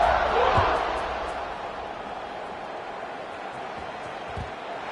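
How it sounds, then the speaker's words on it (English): A stadium crowd at the SMU at Nebraska football game buzzes after a score, a broad roar that swells at first and then settles into a steady distant murmur. "this crowd is buzzing after that last score."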